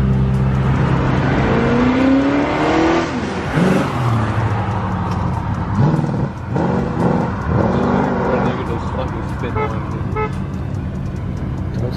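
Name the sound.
cars pulling up in GTA V video game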